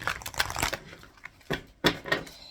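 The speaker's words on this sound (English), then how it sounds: "Let me give it a quick little shuffle here." Quick bursts of tarot card shuffling, a riffle of crisp clicking flutters followed by two more short shuffles after a pause.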